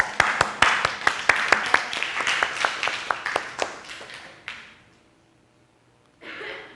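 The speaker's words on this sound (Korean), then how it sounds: "이때는 박수 한번 쳐야 돼." A congregation claps in unison during a church sermon, a run of about twenty sharp, evenly spaced claps that quickens and then trails off into quiet before a voice resumes.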